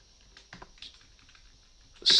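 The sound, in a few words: typing on a computer keyboard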